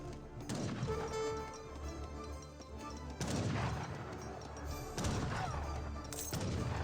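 In an Age of Empires 3 match, an outpost and musketeers fire in several sharp bursts of gunfire and impacts, separated by short gaps over a busy battle backdrop.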